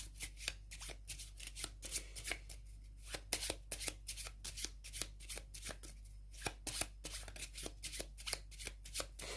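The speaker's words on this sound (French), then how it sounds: "je retire 4 cartes aléatoirement pour constituer donc un nouveau deck automa et je pioche la première carte" Playing cards from a Red Rising board game deck are handled, shuffled and drawn in a solo session, a close series of crisp riffling snaps and flicks in irregular bursts over a low steady background hum.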